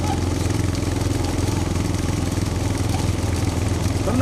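A motorcycle engine idles close by with a steady, rapid low chugging throb that holds constant throughout, with no talking.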